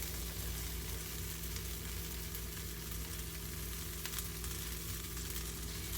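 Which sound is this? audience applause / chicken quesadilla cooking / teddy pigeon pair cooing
chicken quesadilla cooking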